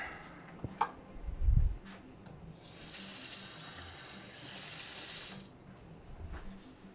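Water runs from a kitchen tap into a pot in a steady gush lasting a few seconds, with a few clunks and bumps of cookware before and after.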